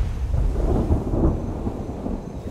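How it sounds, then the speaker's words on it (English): Deep, sustained rumble of thunder rolling on a remote island as a storm breaks and rain begins, loud and continuous throughout with no voices. "To make matters worse, the spell of dry weather has come to an abrupt end."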